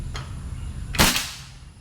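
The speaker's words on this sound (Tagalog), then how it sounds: "Firing." A PCP air rifle, a GCMAG fitted with a new PRNB barrel and running out of tune, fires one sharp, loud crack at a target, with a fainter click just before it.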